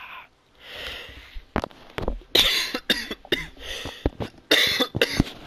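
A person coughs close to the microphone in a series of harsh, separate bursts, some in quick pairs, with short breaths between them and no talking.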